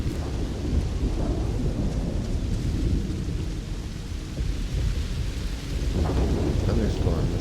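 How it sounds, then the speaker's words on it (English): A thunderstorm in the game Starfield rumbles on as a continuous low roar of thunder and heavy rain, loud and unbroken, with no speech. "Thunderstorm is what happened to me."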